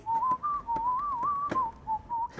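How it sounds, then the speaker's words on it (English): A man whistles a Christmas melody while assembling an RGB gaming PC, a clear wavering tune in short phrases with small gaps, close and loud, with faint handling clicks between notes. "Hey, I'm actually whistling a Christmas song during Christmas time."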